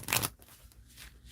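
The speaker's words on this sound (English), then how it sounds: "I'll shuffle another one" A deck of tarot-style cards gets a quick shuffle, one close riffling burst at the start followed by soft handling noises that fade into quiet.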